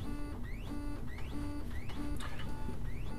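A da Vinci 3D printer heating up while unloading filament, giving off a steady run of repeated rising mechanical chirps and whirs about twice a second, close and fairly quiet, with no voices.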